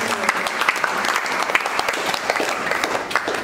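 A crowd claps hands continuously, a dense, even patter of many people applauding at a religious gathering, sustained and fairly loud throughout.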